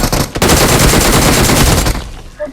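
Rapid gunfire rattles in a video game shooter, a loud dense burst of automatic shots that cuts off after about two seconds, leaving a faint quiet tail.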